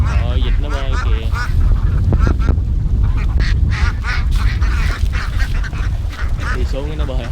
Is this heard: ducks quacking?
yes